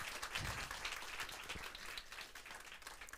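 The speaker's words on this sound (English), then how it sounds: "I would like to give a hand of applause to our next keynote speaker" Audience applause at a cybersecurity conference welcoming a keynote speaker, a quiet, steady patter of many hands clapping together without talk.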